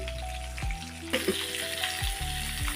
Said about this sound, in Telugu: ఇటు పక్క బాగా ఫ్రై అయింది ఫిష్